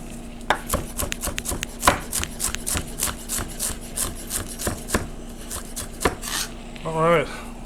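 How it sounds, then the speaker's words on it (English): A knife chops shredded carrots rapidly on a cutting board, dozens of quick, sharp knocks in an uneven rhythm, close by, ending with a brief scraping sound. "the carrots are shredded, so we don't really need to go crazy chopping them down"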